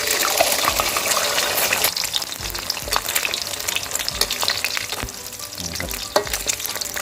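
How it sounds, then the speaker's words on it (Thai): An egg sizzles and crackles loudly in hot homemade pork lard in a pan over medium heat, with continuous close spattering and occasional stirring. "น้ำมันร้อนแล้วก็ ใส่ตัวไข่เลยนะครับ"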